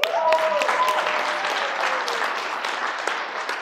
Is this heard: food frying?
no